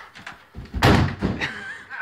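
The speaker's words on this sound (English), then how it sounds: "I broke that door so easily." A door gets kicked in and breaks with one heavy, booming slam and crunch, followed by a smaller knock and lingering rattle, fairly close in a room.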